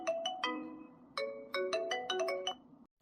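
A phone's ringtone plays a short electronic melody of bright, tonal notes for about two and a half seconds, loud and close, with no talk, as a call is placed to a relative.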